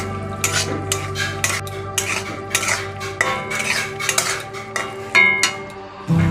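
A metal spoon stirs ash gourd and moong dal curry with sugar, garam masala and ghee in a pan, giving repeated close scraping and clinking strokes over a faint low sizzle, with no speech.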